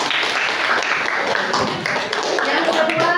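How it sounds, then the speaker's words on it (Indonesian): Classroom applause as students clap together for a classmate, a dense steady patter of many hands lasting a few seconds with faint voices mixed in. "Tepuk tangan dong."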